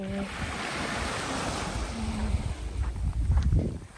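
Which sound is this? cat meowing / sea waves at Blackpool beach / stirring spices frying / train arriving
sea waves at Blackpool beach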